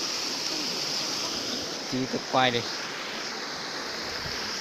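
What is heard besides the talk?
mountain stream flowing while wading across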